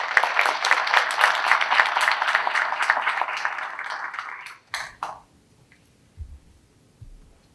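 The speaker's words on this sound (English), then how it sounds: "so let's give them a round of applause." Audience at a Phi Theta Kappa chapter induction ceremony at Allegany College applauds loudly and steadily for nearly five seconds, then the clapping stops abruptly, leaving a few scattered thumps and near silence.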